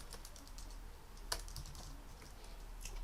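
Keys tapped on a computer keyboard during a web form coding lecture, a quiet run of light clicks with one sharper keystroke, no voices.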